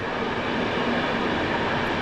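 Group of Czech railway wagons rolling past at close range, a dense, steady, loud roar of wheels and rushing air with no pauses.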